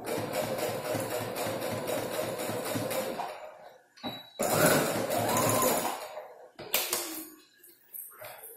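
An industrial sewing machine stitching a multifunction wallet runs in a steady, close whirring stretch for about three seconds, then returns in shorter bursts separated by brief pauses.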